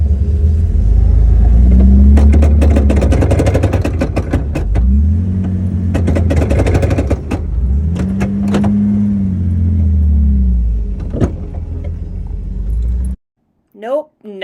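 Novak-powered Seco RC car drivetrain running in two-wheel drive, loud whirring motor and gear noise in repeated rising and falling bursts, close up, ending abruptly before a few brief handling noises.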